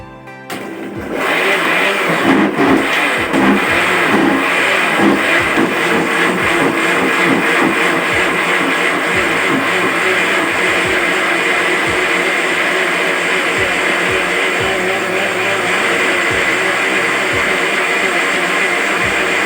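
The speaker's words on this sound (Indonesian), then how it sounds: "Kemudian blender sampai merata." A blender whirs steadily and loudly, chopping noni (mengkudu) leaves in a liter of water for a homemade botanical pesticide, starting with a short burst and then running continuously without talk.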